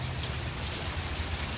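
Steady rain falls during a fishing outing, a constant hiss of drops on surfaces, fairly close and even, with no voices.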